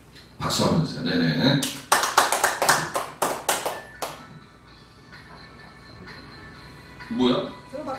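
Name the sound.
audience applause at live show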